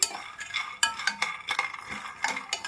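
Peanuts dry-roasting in a pan for a brinjal chutney give off sharp, irregular crackles and light clinks, several distinct pops spread across the moment at close range with no talking.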